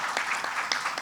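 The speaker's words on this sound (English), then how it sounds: "I think a big round of applause for Livvashini for that poem." Brief, moderately quiet clapping from the audience at a youth panel during the Suara ALAM 2023 event, following a poem recitation; scattered individual claps are heard for about a second.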